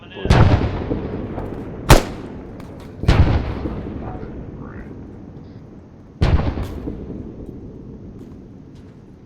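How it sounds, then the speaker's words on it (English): Mortar rounds hit during a barrage in the Arma 3 video game. Four heavy explosions land a second or more apart: three rolling booms with long decaying tails and one sharper crack, all fairly close. "Get down while those mortars are coming in."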